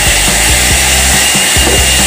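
A hair dryer blows steadily and loudly at close range while drying kinky hair during a rebonding treatment, a constant whooshing roar with faint rhythmic clicking underneath.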